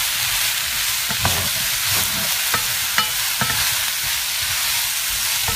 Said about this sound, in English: I'm continuously moving this as it's cooking so it cooks more evenly.